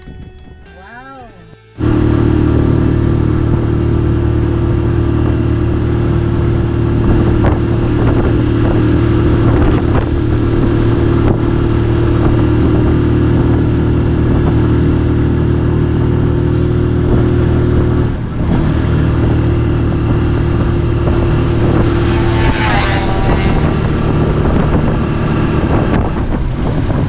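A motorized tricycle engine drones loud and steady while driving along a road, a constant rumbling roar mixed with wind buffeting the microphone, running almost the whole time after a brief quieter start.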